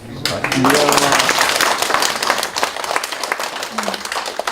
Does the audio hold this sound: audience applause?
yes